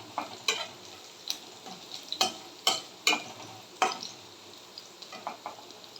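Whole spices sizzling in hot oil for a tempering (phoron) for paneer masala, a steady fizzing crackle with sharp pops and spits bursting out every second or so, close and fairly loud, with no voices.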